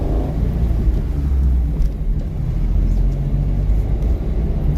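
A car's engine drones with a steady low rumble and lightly raised revs throughout a driving lesson, running continuously at moderate, even loudness with no clear peaks.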